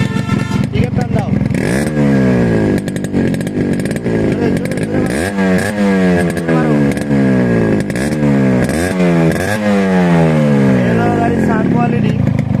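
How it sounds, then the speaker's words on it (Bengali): A Yamaha RX115 motorcycle's exhaust silencer revs hard again and again, each rev sweeping up and falling back in a loud, close, buzzing engine note that runs continuously. "আর গাড়ির সাইলেন্সার পাইপের সাউন্ডটা এই মুহূর্তে শোনাচ্ছি আমাদের"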